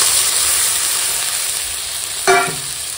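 Water added to a hot pan of fried vegetables and potatoes, giving a close, steady sizzle and hiss, with a brief ringing metallic clatter near the end.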